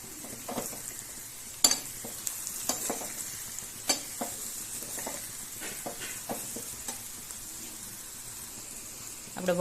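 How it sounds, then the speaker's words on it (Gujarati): A spoon stirs spices through hot oil in a pan for a dal tempering, with light scraping clinks and soft crackling over a low sizzle, close and fairly quiet, no talking. "હવે સરખી રીતે મિક્સ કરી લઈશું."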